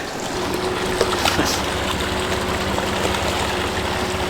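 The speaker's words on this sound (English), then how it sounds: "look, that big ass pilot boat coming at me" A pilot boat's engine drones steadily nearby as it approaches in a channel, with a constant low hum and water rushing beneath it; no voices.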